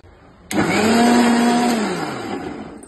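A mixer grinder starts abruptly and whirs loudly as it blends mango with milk into juice. Its high motor whine holds steady and then slowly drops in pitch.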